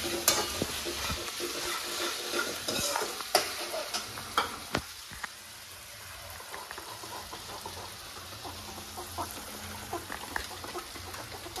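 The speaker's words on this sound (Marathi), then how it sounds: "ढवळून घ्यायचं." Vegetable pulao being stirred on a tawa, with a steady fry-sizzle and scattered scraping clicks of a spoon against the pan; moderately loud, close, no speech.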